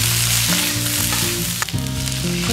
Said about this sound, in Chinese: 接下来把秋葵也倒入锅中